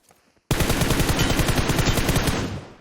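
Gunfire in the mobile game PUBG Mobile starts abruptly after a near-silent moment, a loud rapid automatic burst of dense repeating shots that runs on for about two seconds before tapering off.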